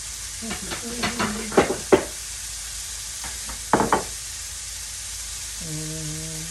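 Burgers sear on medium-high heat in a cast iron skillet, a steady background sizzle broken by a few sharp spatula scrapes and clanks, with a short tonal beep near the end.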